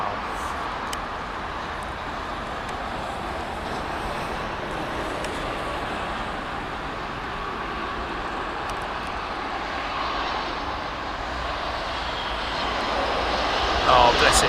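A steady, broad roar of an aircraft engine from a plane landing at sunset, swelling slightly louder toward the end, heard at a distance outdoors without talk.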